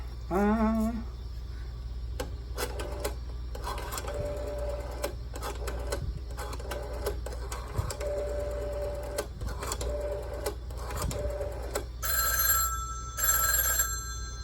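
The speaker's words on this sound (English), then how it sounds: "That's the bedside phone." Red Western Electric 554 bedside telephone's mechanical bell rings in several short bursts, harsh metallic clatter repeating loudly and close, with quiet handling noises between rings.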